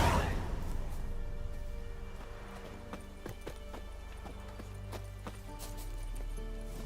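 Roach the horse gallops in The Witcher 3, with steady, rhythmic hoofbeats close by, a soft whoosh of motion and a low ambient rumble, and no talking.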